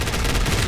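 Spraying gunfire in the Point Blank video game, a brief loud burst of rapid, evenly spaced shots.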